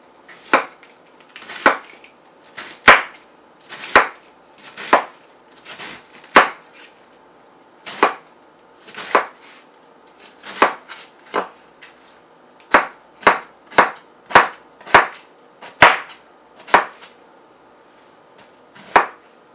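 A knife chops through quartered cabbage on a cutting board for kalua pork and cabbage, with steady, crisp, close thuds repeating in loose rhythm, some in quick runs.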